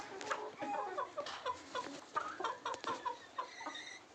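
Free-range village chickens cluck in a steady run of short, repeated calls, fairly close and clear, with no talking over them.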